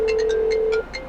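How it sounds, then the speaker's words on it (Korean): Phone ringback tone through a Kia Stonic's car audio system, triggered by a voice command over Apple CarPlay: a steady ringing tone with a repeating pulsed chirp, clear and close, stopping abruptly near the end. "전승용 기자님 님에게 전화 거는 중."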